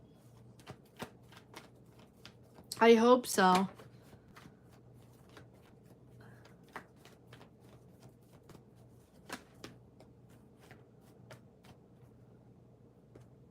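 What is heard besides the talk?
shuffling tarot cards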